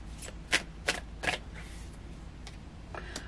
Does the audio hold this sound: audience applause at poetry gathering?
no